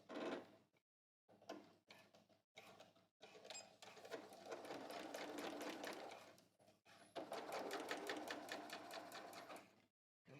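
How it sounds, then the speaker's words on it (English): A sewing machine stitches across two overlapping ends of elastic at a pant casing, running in several short bursts with brief pauses, then a longer steady run of close, rapid needle chatter. "I'm going to stitch across with the two sides of elastic together"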